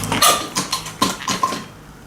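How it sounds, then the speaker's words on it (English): A chisel scrapes and knocks at the paint seal between old fireplace tiles in a 1915 house, a handful of short, close, gritty clicks and scrapes spaced irregularly. "I'm just going to break up the seal, the paint seal between these tiles"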